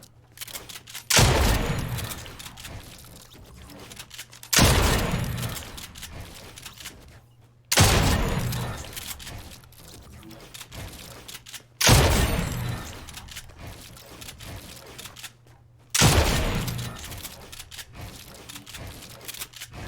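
Gunshots fired at a bot on a Fortnite edit practice course, five sharp loud shots spaced about every four seconds, each followed by a decaying rattle of game effects.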